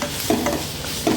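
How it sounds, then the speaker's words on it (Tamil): Tomatoes for a tomato chutney are sautéed in a pan with fennel seeds and mashed down with a ladle. A short burst of soft sizzling carries a couple of scraping stirs, close and moderately loud. "தக்காளியை நல்லா அந்த கரண்டியாலேயே நல்லா அமுக்கி விட்டு நல்லா இது பண்ணுங்கள், நல்லா வதக்கி விடுங்க"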